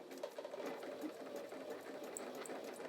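A sewing machine runs continuously, stitching along practice lines with a steady, even mechanical whir that stays fairly quiet and unbroken throughout.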